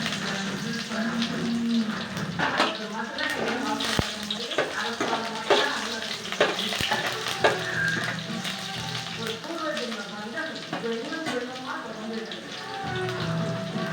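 Onions fry in hot oil with a steady crackling sizzle and occasional stirring clinks for a fish curry, while a voice talks over the cooking.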